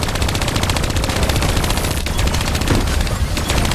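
Dense, continuous automatic gunfire from turrets in the video game Call of Duty: Black Ops 3, a loud, rapid stream of shots with booming impacts running throughout.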